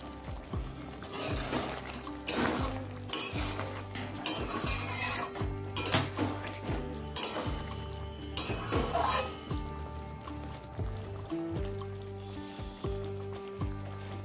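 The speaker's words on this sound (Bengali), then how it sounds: "ডিমটা আমি একটু এইভাবে কেটে দিচ্ছি যাতে মশলাটা ওর মধ্যে ঢুকে যায়।" Egg curry with yogurt gravy being cut into and stirred in a pan, a spoon scraping and clinking against the metal in repeated close strokes over a low simmer, with no voices.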